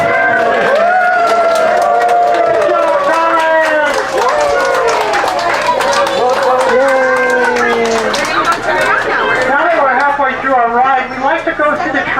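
Passengers aboard a Thomas the Tank Engine train ride at the Southern California Railway Museum cheer together, a loud sustained crowd of overlapping shouting voices, many of them high-pitched, with scattered claps mixed in throughout.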